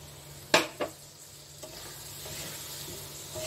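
Water poured into a spice paste in a pan for a vegetarian aloo dum gives one sharp sizzling burst, then a second softer one, before a low simmering hiss with faint stirring scrapes, and no voices.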